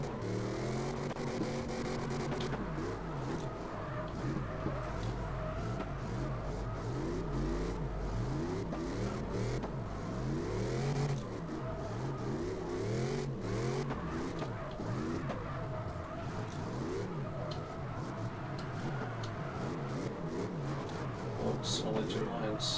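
Car engine revving and wailing through drifts in the racing game CarX Drift Racing Online 2, the pitch swooping up and down repeatedly over continuous engine drone while a person talks over it.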